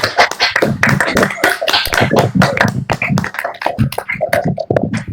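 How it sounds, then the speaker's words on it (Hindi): A crowd claps together loudly and continuously, with dense overlapping hand claps filling the whole stretch. "तो अब तो जोरदार एक बार तालियां बजाएंगे सब, ताली बजाएंगे सब जोरदार।"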